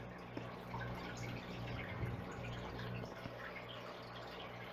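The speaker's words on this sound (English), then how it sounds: "You can press the button for water," A water and ice vending machine dispenses water in a faint, steady trickle and fill over a low machine hum, with no talking.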